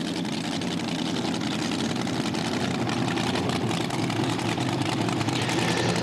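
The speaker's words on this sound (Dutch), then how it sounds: "Nu een 540 Chevrolet motor, dat wil zeggen 540 cubic inch." A mini tractor puller with a 540 cubic inch Chevrolet engine rumbles loudly and steadily throughout, a dense low roar at an indoor pulling event with no break.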